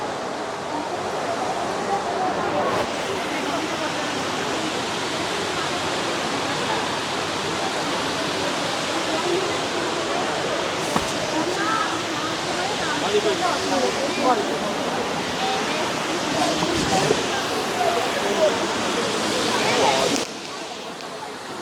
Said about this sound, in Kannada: ಹೇಗಿದೆ ನೋಡಿ ಈ ಫಾಲ್ಸ್